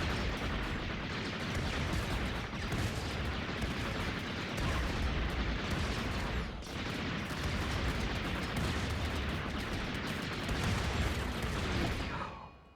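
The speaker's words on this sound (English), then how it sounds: "Let's start shooting some of these droids." Dense, continuous gunfire and blasts from a RimWorld Star Wars clones-versus-droids battle, a loud unbroken barrage of shots and explosions lasting throughout with no pauses.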